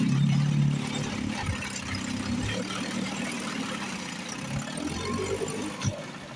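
A Johnson outboard motor idles with a steady, low, even rumble that runs continuously at moderate loudness from start to end.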